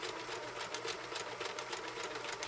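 A 1974 Kenmore 1050 sewing machine runs at speed with its feed dogs moving the material rapidly back and forth, a fast, even mechanical chatter of close, rhythmic clicks and whirring.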